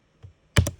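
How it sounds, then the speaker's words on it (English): Computer keyboard typing, a faint single keystroke followed by a quick close cluster of three or four sharp clicks, crisp and nearby in an otherwise quiet room. "sorry if you hear my keyboard at all"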